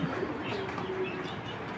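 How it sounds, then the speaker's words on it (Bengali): An imported Opal racing pigeon gives a brief, soft, low coo, close by, over steady background noise from a loft. "এই যে এটা হলো ইম্পোর্ট করা কবুতর"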